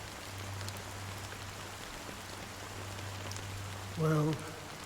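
Steady rain falls in Honkai Star Rail as a soft, even hiss under a low hum, with a brief louder tonal sound near the end.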